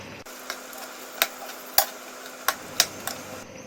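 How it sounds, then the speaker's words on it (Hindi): A spoon stirs roasted fox nuts and fresh coriander through a simmering pea curry in a pan, with soft sizzling underneath and several sharp taps of the spoon against the pan at uneven intervals. "थोड़ा सा हरा धनिया डालेंगे और इन्हें मिक्स करेंगे।"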